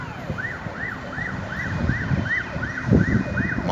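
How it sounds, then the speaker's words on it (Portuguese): An ambulance siren wails in a regular rising-and-falling cycle as it passes nearby, over a background rumble of road traffic. "Uma ambulância."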